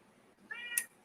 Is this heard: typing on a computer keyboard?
no